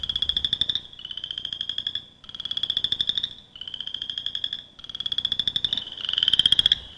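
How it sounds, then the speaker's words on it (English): A male chorus frog calls at night, giving six loud, close, rising trilled pulses in a regular rhythm with short pauses between them, and no talk. "This is the male chorus frog. He's calling to a female."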